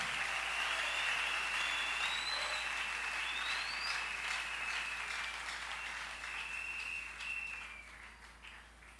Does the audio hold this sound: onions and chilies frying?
no